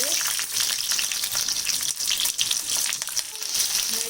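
Two medium onions frying in hot oil for matar paneer give a loud, dense, crackling sizzle that runs without a break, with occasional stirring scrapes.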